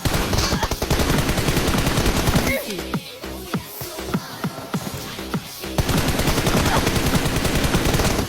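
Rapid automatic gunfire and single shots in an online shooter video game, loud and dense bursts with a brief quieter gap of scattered shots in the middle before the heavy firing resumes.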